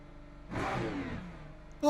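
A GT3 race car engine revs in Le Mans Ultimate, a single throaty rise and sustained rev lasting about a second, moderately loud and alone, no talking.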